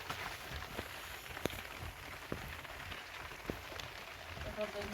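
Heavy rain falls steadily on a surface, a dense continuous patter with occasional louder drops and knocks; a voice may murmur faintly underneath.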